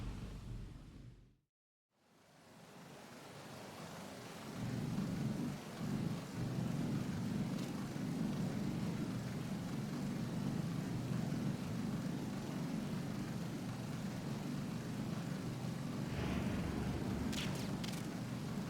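A K-60 Kasatka helicopter in Metal Gear Solid 2 sets up a steady, heavy rotor rumble after a short silence and holds it unbroken, with a few faint higher clicks near the end.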